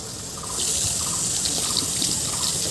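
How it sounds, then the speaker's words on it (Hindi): Water gushes from a tap on a college campus, starting quieter and then rising to a loud, steady splashing stream that runs close by without pause, with no talking. "यहाँ पे पानी निकलते हैं, जाओ मुंह धो सकती हो"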